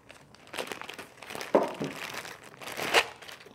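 A sheet of sandpaper for a Metabo MT 18 LTX cordless multitool is handled and crinkled, giving several close, papery rustles with two louder crackles.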